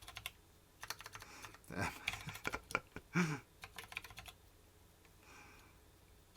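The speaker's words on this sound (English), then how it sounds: "Let me just type something in chat." Typing on a Planck mechanical keyboard: close, irregular bursts of clacky keystrokes, with a brief spoken word partway through and a quieter stretch at the end.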